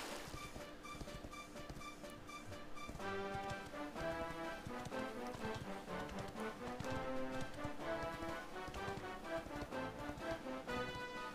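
Horse hooves clip-clop in a quick, steady rhythm in the video game Dragon Quest XI, faint and fairly even throughout, with a light patter layered beneath.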